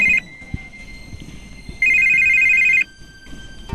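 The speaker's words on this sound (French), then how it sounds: "tu as un appel" A telephone rings for an incoming call, two bright electronic trilling bursts, the first short and the second longer, over a quiet room background.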